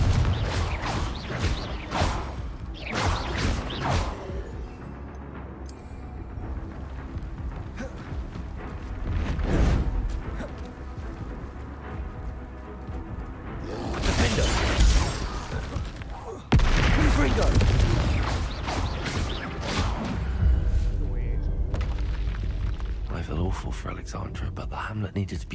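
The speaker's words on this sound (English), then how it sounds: "Confringo!" A fire-blast spell bursts in the video game Hogwarts Legacy, adding loud booming, crackling blasts and whooshes to busy battle sound and music. The heaviest bursts land around the middle and again in the second half, and voices are heard shouting.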